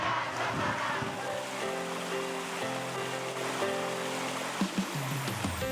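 Songgolangit waterfall on the slopes of Mount Muria in Jepara, Central Java, gives a steady, dense rush of falling water, with faint tonal music underneath.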